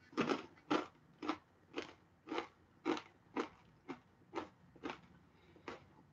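Crunchy snack bitten and chewed close up, about ten sharp crisp crunches at a steady, almost regular pace in otherwise quiet surroundings.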